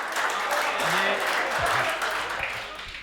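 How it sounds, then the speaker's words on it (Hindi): Audience applause at a Hindi hasya kavi sammelan, a comic poetry gathering: a dense, steady wash of clapping from a large crowd, fairly loud throughout and tapering slightly near the end, with a few faint voices underneath. "तो तालियां थोड़ी सी बजाइए।"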